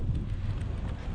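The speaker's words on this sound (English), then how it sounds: "strong wind." Strong wind buffets a GoPro mounted on a selfie stick while cycling over undulating terrain, a dense, steady low rumble filling the whole moment, loud and close with no letup.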